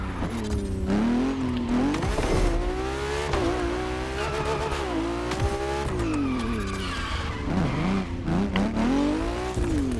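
A Ferrari F80 in The Crew Motorfest revs and accelerates hard, loud and close, its engine pitch sweeping up and down through gear changes with brief tyre squeal, alone without talk.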